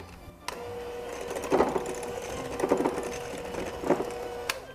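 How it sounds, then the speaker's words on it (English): An electric mixer whirs in a bowl of wet carrot cake ingredients (eggs, oil, sugar and vanilla), a steady motor hum with rhythmic louder pulses as the beaters work through the batter. "it's time for Ellie to use the mixer"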